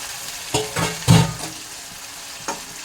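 Chicken gets stirred in a frying pan, a few distinct scraping strokes with a spatula over a quiet sizzle, the loudest one near the middle, spaced irregularly and close up.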